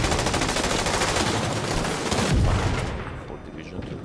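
Rapid gunfire from The Division 2 video game, a dense automatic burst of shots rattling steadily and loudly, swelling briefly near the middle, then thinning out toward the end.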